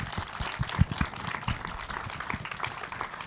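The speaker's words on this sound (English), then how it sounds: "big round of applause" A modest audience applauding filmmakers at a Hmong filmmaker showcase, scattered, uneven hand claps of moderate level with individual slaps standing out against a thin room background.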